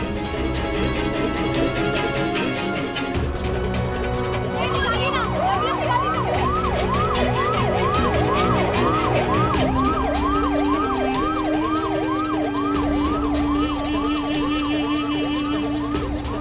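An ambulance siren wails loudly and steadily in a repeating up-and-down pattern, rising over a background of music and street noise throughout, with no talking.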